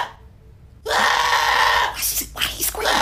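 A person screams in their sleep: after a quiet start, a loud, sudden, sustained scream bursts in, with brief breaks and renewed cries toward the end.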